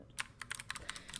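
Typing on a mechanical RGB keyboard with blue switches, a quick run of close, crisp clicky keystrokes in an irregular rhythm, fairly quiet and without any speech.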